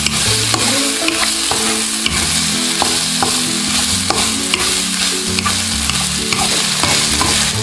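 Garlic sautéing in a pan for a vegan massaman curry, a steady loud sizzle with repeated scraping stirs and utensil clicks throughout, no voices.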